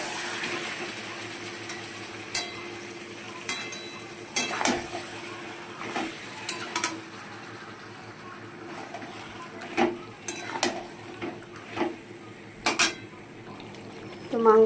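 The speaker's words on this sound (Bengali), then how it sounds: "এবার মাংসটাকে ভালো করে কষিয়ে নেব মশলাটার সাথে" Marinated chicken sizzles as it is stir-fried with spices in a pan, with a low steady frying hiss under repeated clinks and scrapes of a metal spoon against the pan, some sharp knocks standing out.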